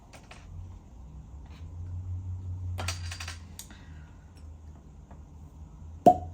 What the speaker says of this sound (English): Oh, it's a good cork pop.